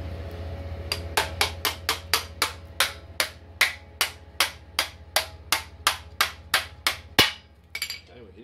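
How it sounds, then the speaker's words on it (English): Steady hammer strikes, about eighteen sharp metallic blows in a regular rhythm, close and loud over a low hum, during frame reassembly on a Honda XL250 motorcycle restoration. "That's my hammer."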